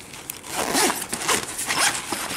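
A backpack zipper is pulled back and forth several times in quick, close strokes, loud and raspy.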